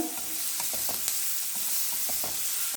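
Frying with turmeric powder over a low flame while making a raw banana podimas, a continuous soft sizzle with rhythmic stirring scrapes in the pan, close by and with no talk.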